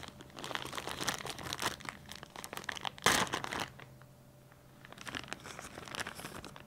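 Tissue paper crinkling and rustling up close while a cigar club box is unboxed, with dense handling crackles, one sharp louder tear-like crunch midway, then a brief lull before more crinkling.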